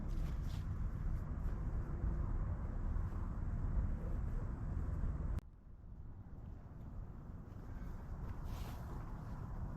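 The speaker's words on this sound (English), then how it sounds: "It is a little windy today" Steady broadband wind rumbles against the microphone outdoors at a depot on a blustery day, loud and continuous before dropping abruptly to a softer, still constant roar partway through, with no voices.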